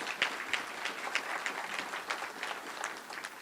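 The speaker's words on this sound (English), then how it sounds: "Give Betty a round of applause." An audience at a community meeting about a new regional medical center claps for a park and planning board chair, steady scattered handclaps at moderate level with distinct sharper claps standing out throughout.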